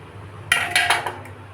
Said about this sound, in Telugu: పైనుంచి కిందకి, కింద నుంచి మీదకి కలుపుకుందాం.